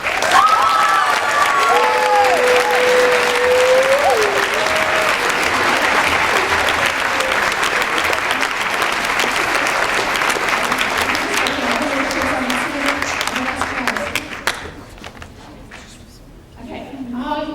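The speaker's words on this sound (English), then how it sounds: "Would you please give an incredible, incredible applause to Mrs. Carroll?" A school audience at a Mary Poppins musical production gives loud, sustained applause with some cheering and voices mixed in early on. The clapping continues strongly, then thins out and fades near the end.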